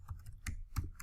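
A few quick keystrokes clack on a computer keyboard, close and crisp, four or five taps in an uneven rhythm with no talking.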